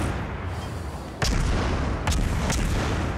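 Battleship guns on the USS New York fire in World of Warships: a few booming blasts over a dense rumbling battle background, one sharp heavy report followed by two more.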